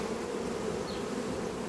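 Honeybees buzz at a hive entrance fitted with an anti-robbing device, a steady close droning hum with no voices.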